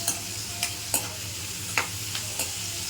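Onions frying with salt in a pan, an even background sizzle punctuated by about half a dozen crisp spatula scrapes and taps at irregular intervals, close up with no voices.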